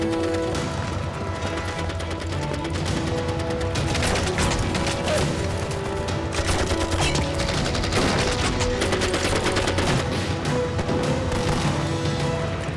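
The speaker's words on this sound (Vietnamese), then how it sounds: "Tiếng súng gần hơn rồi." Dense gunfire and explosions from a Chinese war film about anti-Japanese resistance, relentless overlapping shots and crashes at loud, near volume with a musical score underneath, no talking.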